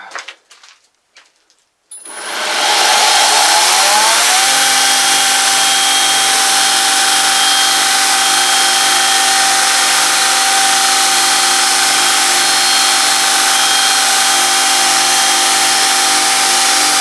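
A belt grinder fitted with a cone contact wheel instead of a barrel drum spins up after a few faint clicks, then runs with a loud, steady, even whine and hum that holds alone for the rest of the span.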